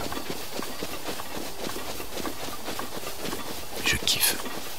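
Horse hooves clip-clopping in Zelda: Breath of the Wild, a steady patter of game footfalls under a light ambient bed, with a brief brighter burst near the end.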